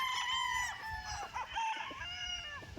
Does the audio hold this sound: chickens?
yes